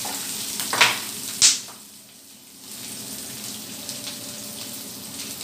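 Dried red chilies frying in a pan for chutney in a home kitchen, a steady soft sizzle throughout with a couple of sharp clinks of a utensil near the start.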